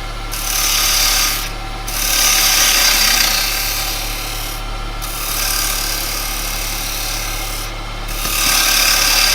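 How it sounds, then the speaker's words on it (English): Yew spinning on a wood lathe as a gouge cuts round it, a continuous scraping rasp with the motor hum beneath, easing off briefly three times between passes. "Remember when you're cutting round, just get on that bevel, use your bevel for a bit of control."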